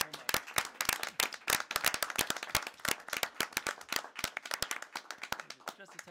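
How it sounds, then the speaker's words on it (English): Attendees at a regional school committee meeting give a round of applause, a sustained burst of sharp, close hand claps in a busy, uneven rhythm from a modest-sized room of people. "let's give them a round of applause"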